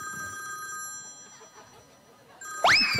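A phone's electronic ringtone trills softly in the background on a Filipino TV variety show, then a louder rising chirp sounds close by at the end.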